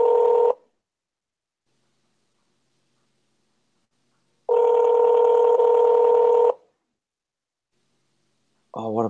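An outgoing phone call places rings while trying to reach a voicemail, with two loud, clean ringback tones separated by long silence before a voice begins at the very end.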